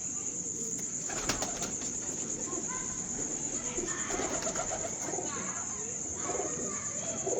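Grey pigeons of the Ferozpuri type with kohl-dark eyes coo and flutter in a loft, a steady bed of birdsound with bursts of wing flapping, while people talk throughout.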